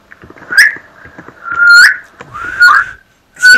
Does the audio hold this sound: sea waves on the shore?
no